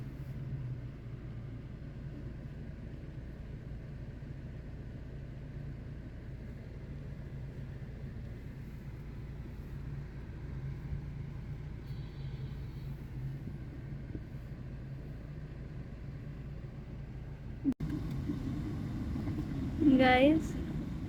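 Steady low engine and road rumble fills the cabin of a moving car on a ride with a pet cat aboard, broken near the end by a sharp knock and a brief high rising squeal.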